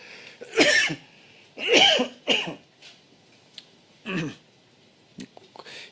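A person coughs after choking, several harsh separate coughs with short gaps between them, close and fairly loud in a quiet room.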